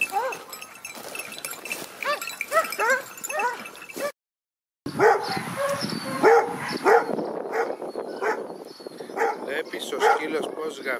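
Hunting dogs bay and yelp at a hare out in the countryside, rapid excited barks from several dogs that cut out briefly, then resume in a noisy overlapping chorus under a voice.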